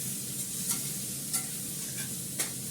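Onion and potato fry in a pan with a soft steady sizzle, a few light stirring scrapes and clinks breaking through, quiet and close with no talking.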